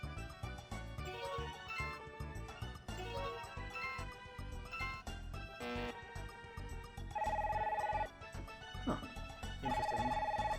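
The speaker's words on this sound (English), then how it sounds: "I'm getting the phone call." A synthesized phone ring sounds in the dating sim Tokimeki Memorial, with steady electronic tones repeating in two long bursts over busy game music, fairly loud in the mix.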